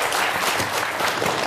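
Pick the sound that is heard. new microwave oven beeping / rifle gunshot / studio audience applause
studio audience applause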